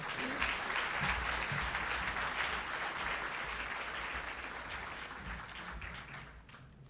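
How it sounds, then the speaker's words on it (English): Audience applause for the recipient of the Jane Addams Distinguished Service Award at a UIC ceremony, a dense, steady round of clapping filling the room for about seven seconds and tapering slightly at the end. "So another round of applause for Muskan."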